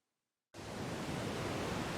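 Rough Atlantic Ocean waves break along the coast at Accra, Ghana, coming in suddenly after a moment of silence as a loud, dense, continuous roar of surf with no voices.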